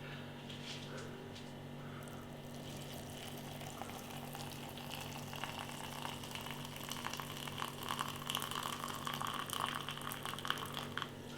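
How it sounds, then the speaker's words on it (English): Hot water pours steadily into an instant noodle pot of extra hot jalapeno Naked Noodle Chinese Firecracker Chicken, a continuous bubbling trickle that builds gradually over a low constant hum. "fill the water up to that line on the inside"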